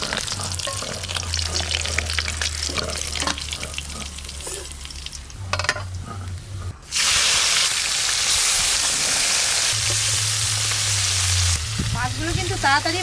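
Small khoira river fish sizzle in hot oil with a continuous crackling hiss that surges louder midway, broken by stirring, a low hum and a few scraping clatters.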